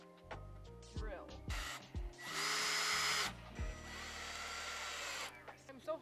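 Power drill boring into wood while building a backyard greenhouse interior, several short whirring bursts and one longer loud run, close by, with brief talk between.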